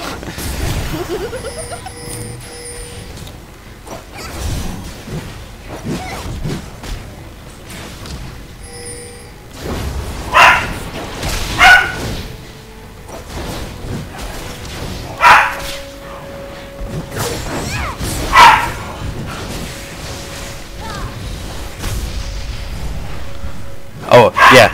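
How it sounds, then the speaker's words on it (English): Puppy and dogs barking now and then while running around a house, scattered sharp barks and yips rising over steady nearby talking and game sounds. "So occasionally there will be barks because they are running around the house right now."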